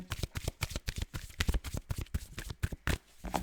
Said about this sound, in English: Sorry for shuffling right in the in the microphone.